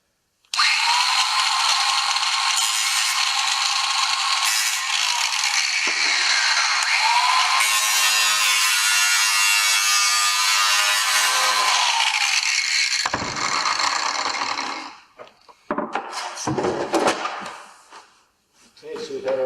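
A power tool trims the edge of a UPVC corner trim during a GRP roofing installation, a loud continuous whining cut that shifts in pitch and runs for about thirteen seconds, then stops and gives way to short handling noises.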